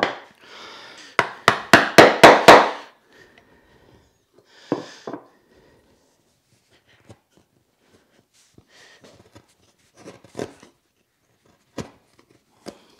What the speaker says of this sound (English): just chip out the rest of the waste